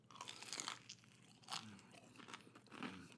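Crunchy bites into a Popeyes Cajun boneless chicken wing, close and faint, with several crackling crunches and chewing in irregular bursts, no talking over them.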